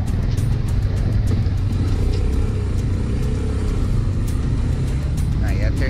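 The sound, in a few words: motorcycle passing on the street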